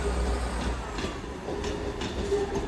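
An LNER train at Newcastle station gives off a steady low rumble and hum, with faint metallic rail noise throughout, moderately loud and continuous.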